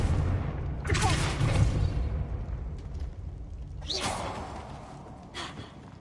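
Incendio and Confringo spell effects in Hogwarts Legacy, two sharp whooshing bursts with fiery crackle a few seconds apart over a low rumbling game background, with a brief vocal sound.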